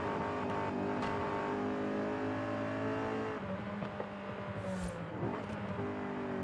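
A Honda S2000 with simple bolt-on upgrades runs with its VTEC engine droning steadily and loudly, pitch holding fairly even before a brief dip and rough patch near the end, no voices present.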